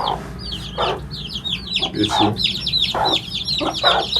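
Chickens cluck and chirp in repeated bursts, with high chick peeps throughout, close by in a farmyard that also holds feather-footed hens and their chicks; a voice briefly speaks.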